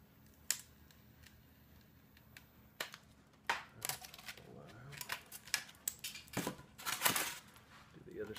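A prop claw is cut where the claw meets the arm, with sparse sharp snips and clicks that grow busier and louder midway, close by over a quiet room.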